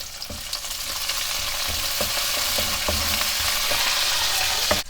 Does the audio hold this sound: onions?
yes